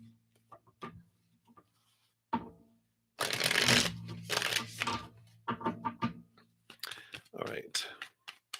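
Tarot cards shuffled by hand in a quick riffling burst, with a few softer card taps before and after, close and fairly loud; a person talks in between.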